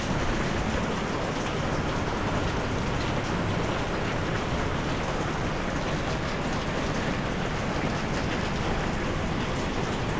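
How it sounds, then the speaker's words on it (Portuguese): Steady rain falling in Japan, a dense, even hiss of drops on surfaces that holds at constant loudness throughout, with no voices. "Uma chuva sim, chuva gostosa igual essa que tá vindo aqui."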